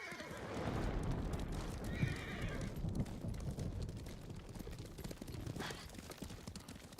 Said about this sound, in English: Oh, you do have a horse.